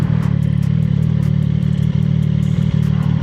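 A CFMoto 675SS motorcycle idles in first gear after a downshift, with a steady low engine throb and a light mechanical clatter running evenly and close throughout.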